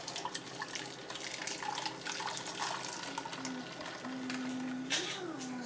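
Detox juice poured through a strainer in a home kitchen, a faint trickling and splashing of liquid with brief drips and a few soft background sounds.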